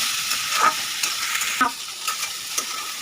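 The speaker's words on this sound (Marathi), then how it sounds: "हे आपण कढईत हलवत हलवून असं भाजून घ्यायचं" Corn kernels are stirred and roasted in a kadai, giving a continuous dry sizzle broken by repeated scraping strokes of the spoon against the pan. No one speaks.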